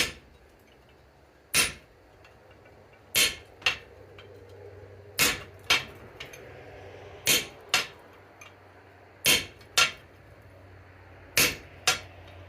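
Hot steel is cut by hammering on the cutting block of a London pattern anvil, with sharp, close metallic strikes arriving in spaced pairs over quiet forge ambience and no talking.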